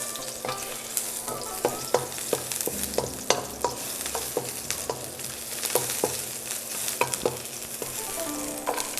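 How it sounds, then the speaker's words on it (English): Onions stir-fried in a pan for fried rice: a steady hiss of frying with irregular clattering scrapes and taps from the stirring utensil throughout, close and fairly loud, with no talking. "Let's stir fry for a while."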